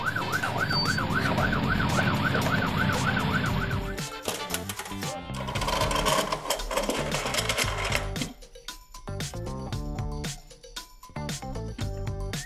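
A toy ambulance siren wails, sweeping up and down, then gives way to a bright plinking, toy-like melody and clattering sounds; no one speaks.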